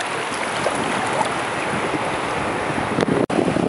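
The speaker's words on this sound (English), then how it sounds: "here comes bigger waves" Ocean waves and surf while surfing in Siargao, a steady loud wash of water with heavy wind buffeting the microphone, alone and continuous with a brief dropout near the end.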